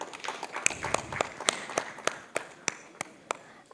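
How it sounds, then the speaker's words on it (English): Audience applause at a conference on occupational safety, health and environment, heard as sparse, irregular individual claps, moderately loud and close. "please give her a round of applause"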